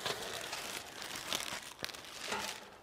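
Tin snips cutting through sheet metal during a micro cabin build, a steady crinkling, crunching scrape with a few sharper snips, close and fairly quiet, with no talking.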